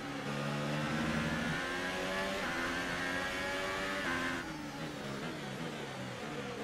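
A Formula 1 car engine in the game F1 2018 whines at high revs with rising gear-shift tones, steady and fairly close, dropping slightly near the end, no talking.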